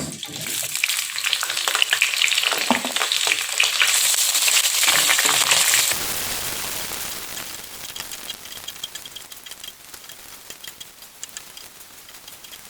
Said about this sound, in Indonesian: di sini kita goreng sosis